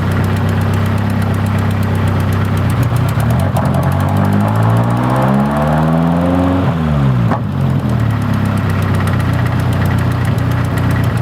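Nissan 240SX engine, checked for a charging problem, revs up when given gas, rising in pitch from idle and dropping back, a steady loud mechanical drone throughout with no talking.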